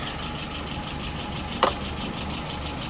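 A car engine idling at a steady, even rumble with a constant low drone, close by, with one brief sharp click partway through and no speech.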